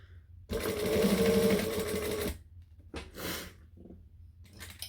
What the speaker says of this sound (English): for a change, I am going to backstitch.